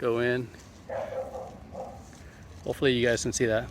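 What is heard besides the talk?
dog barking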